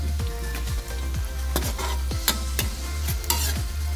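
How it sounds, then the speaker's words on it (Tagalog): Food being sautéed in a pan, with a steady oily sizzle beneath repeated scraping strokes of a spatula, close and fairly loud, at an uneven but regular rhythm. "Pag ginigisa natin yan, sinusutay natin."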